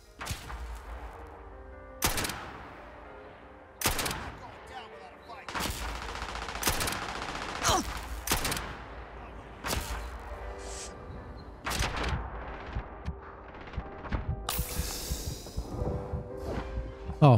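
Sniper and other gunfire from an enemy group in the Starfield video game, with sharp loud shots repeating every couple of seconds over a low background hum and some muffled activity.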